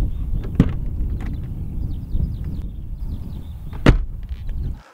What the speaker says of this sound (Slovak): Už len ten nádherný zvuk dverí.